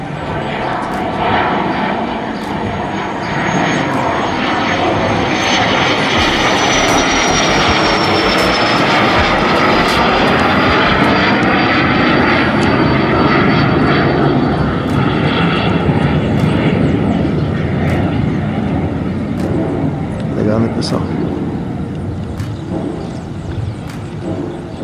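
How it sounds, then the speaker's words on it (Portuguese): An airplane takes off from a city airport, its engine roar loud and sustained for the whole stretch, broad and steady with a rising whine that slowly bends downward as it climbs away. "Olha só, pessoal, já decolou."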